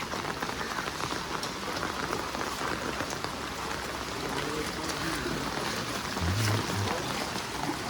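Heavy monsoon rain pours steadily in Mumbai, a dense, continuous hiss of drops drumming on surfaces and running water, close and loud throughout, with a brief low rumble near the end.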